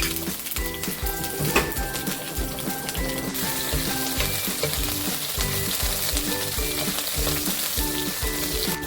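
Ginger, green chilli and garlic sizzling in a pan for a Kerala-style pulissery, a steady close frying hiss with spoon scrapes and light clatter of utensils, a faint musical tone underneath, no talking.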